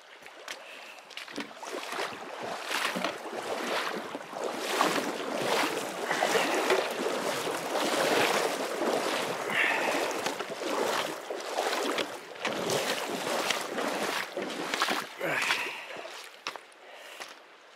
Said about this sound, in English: Got to cross the Snake River again.